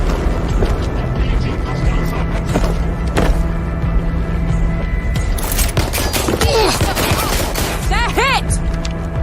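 Gunfire in Watch Dogs Legion crackles in scattered shots and bursts amid loud game ambience, with voices shouting over the exchange.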